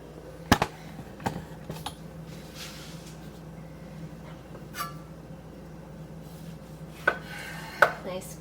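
A knife cuts through a big, freshly harvested garden tomato for thick sandwich slices, giving a few sharp, close taps as the blade reaches the board over a quiet background.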